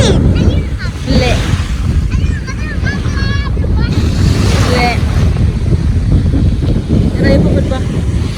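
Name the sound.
sea waves at Alamein beach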